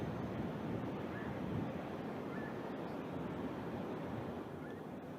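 Wind sweeps across a coastal golf course at the Aramco Saudi tournament: a steady, broad rushing roar buffets the microphone, fairly faint and continuous, with no clear voices over it.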